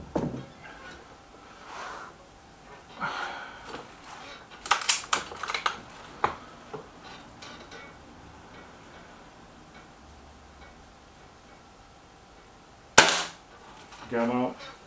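A Weihrauch HW110 and a Gamo Boxer air rifle are fired outdoors, with sharp cracking shots and faint pellet impacts spaced across the stretch, several louder pops standing out, and quiet talk between them.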